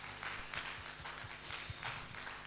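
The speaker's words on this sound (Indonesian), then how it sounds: "Yang kita beri tepuk tangan untuk kemuliaan Tuhan terlebih dahulu ya." Church health-talk audience giving a round of applause, dense continuous clapping from many hands at moderate volume, steady for the whole stretch with no voices standing out.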